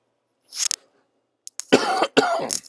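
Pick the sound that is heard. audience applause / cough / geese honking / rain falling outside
cough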